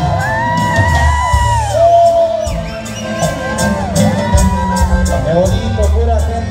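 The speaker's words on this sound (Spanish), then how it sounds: "aplauso para Jaycelyn una vez más y arriba la quinceañera" Guests at a quinceañera party cheer loudly with whoops, yells and shouts from a close, lively crowd, the voices rising and falling over a busy background of clapping and chatter.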